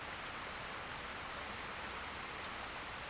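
Steady rain falls outdoors as a dense, even hiss that carries on without a break and has no voices over it.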